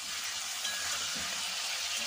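Drumstick stalks fry in a pan with already-fried potatoes, making a soft, steady sizzle with faint stirring underneath.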